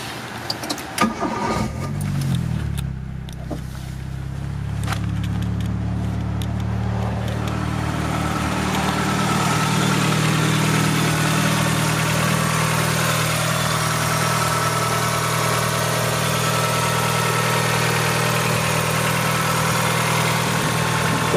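A 1989 Toyota Starlet Turbo-R fires up after a few seconds of small clicks and knocks, then idles steadily and close by with a low, even hum that holds for the rest of the clip.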